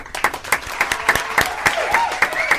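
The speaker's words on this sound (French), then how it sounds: "applaudissements" Small-group applause in a French TV studio, a handful of distinct sharp claps in a loose, uneven rhythm, close and clear, with faint murmuring underneath.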